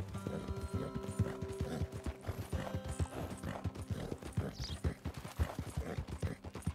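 Horse hooves clip-clopping steadily in the video game Red Dead Redemption 2 as the horse moves through a lake, a continuous rhythmic plodding close by with faint ambient tones behind.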